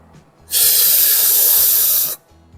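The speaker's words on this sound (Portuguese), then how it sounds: "eu vou aspirar um pouquinho de ar para que eu crie uma espécie de um spray dentro da minha boca" A sharp, steady hiss of air drawn through olive oil held in the mouth during a tasting, one continuous loud slurp lasting under two seconds, close and alone.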